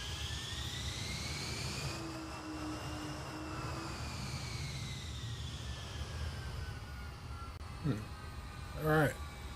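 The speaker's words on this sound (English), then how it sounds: "I want to hear those engines one last time." Jet engines whining steadily in Microsoft Flight Simulator 2024 after a landing, a continuous high tonal hum over a broad rumble, with a brief gliding tone and a couple of short clunks near the end.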